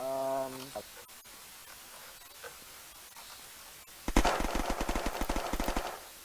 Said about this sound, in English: There's a little bit of gunfire going on out there.